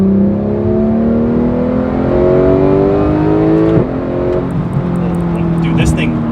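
A Porsche 911 GT3 engine revs hard, its pitch climbing steadily through high RPMs, with a brief gear change before it keeps pulling, loud and close.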